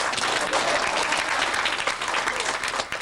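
An audience at a live comedy-music anniversary show claps in a dense, steady burst of applause that fills the whole stretch, close and loud.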